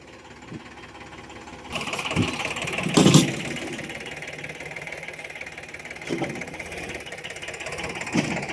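A farm tractor on a Gujarat field, hauling manure, runs with a steady mid-pitched rumble, swelling in a couple of brief louder bursts.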